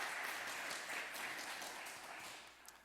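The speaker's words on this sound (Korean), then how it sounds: "축복하고 격려하는 박수 한 번 더 하겠습니다" A church congregation at a Wednesday worship service claps together in blessing and encouragement, a steady dense applause that holds throughout and fades slightly toward the end.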